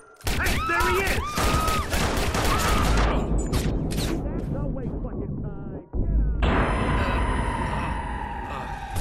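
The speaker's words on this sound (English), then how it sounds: "Someone's shooting!" Heavy, booming gunfire and blasts from the video game Watch Dogs rumble continuously and loudly for several seconds, break off briefly, then resume with a bright ringing layer on top.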